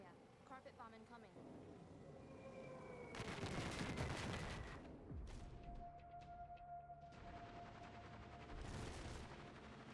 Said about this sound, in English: Carpet bomb incoming.